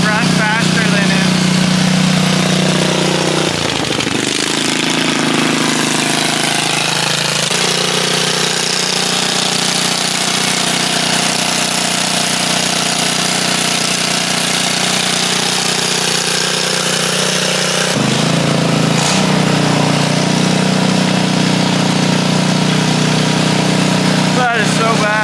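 A 1980 Daihatsu kei mini truck's engine runs close by, a loud, rough, buzzing drone with shifts in pitch as it revs and settles, with people talking over it at times.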